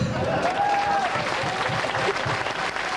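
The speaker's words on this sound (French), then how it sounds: "On peut l'applaudir." An audience at a prize ceremony claps in a brisk, continuous burst, fairly close, while a voice briefly calls out over the applause.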